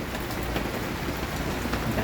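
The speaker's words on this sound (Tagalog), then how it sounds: "Lakas ng ulan." Heavy rain pours down steadily, a dense, continuous hiss of drops drumming on surfaces close by.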